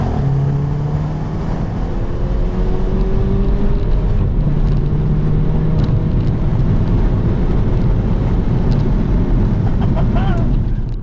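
A 2016 Mercedes A250 4MATIC engine revving up and accelerating hard, a steady rising drone with road and wind roar underneath, continuous and close.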